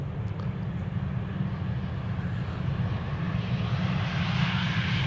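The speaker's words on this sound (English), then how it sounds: "This is Lufty flight 988 visiting Amsterdam from Frankfurt" Lufthansa jet airliner arriving at Amsterdam Schiphol on a flight from Frankfurt, a continuous low engine rumble and rushing roar that builds slightly as it approaches, heard alone with no voices.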